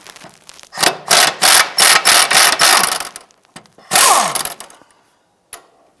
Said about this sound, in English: Let's go ahead and remove the nut on the upper end link here.